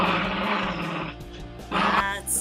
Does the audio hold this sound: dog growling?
yes